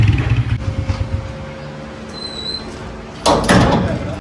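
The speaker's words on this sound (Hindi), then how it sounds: "दरवाज़ा जी खोलते हैं, घर पहुँच गए हैं।" A house door swings open on arriving home, a sudden loud rattling burst near the end after a stretch of quiet indoor background hum.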